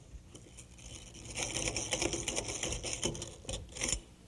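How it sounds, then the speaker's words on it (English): A drill drives drywall screws through a glued connecting strip while hanging a door, giving a close, buzzing whir that rises and falls over about four seconds in several short bursts, with no speech. "Put it in place and hold it there with drywall screws."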